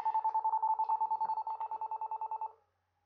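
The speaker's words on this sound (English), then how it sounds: "that's the mobile making its noise" A Huawei mobile phone rings with a fast pulsing electronic tone repeated for about two and a half seconds, clear and fairly quiet, then stops.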